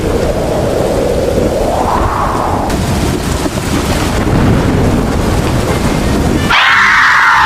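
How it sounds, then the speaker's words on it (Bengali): Cartoon thunderstorm effect with heavy rain, a loud continuous roar of downpour with rolling thunder swells and a shrill howling wind tone near the end, no voices. "সারা রাত বাইরে ঝড়ের শব্দ শুনতে শুনতে"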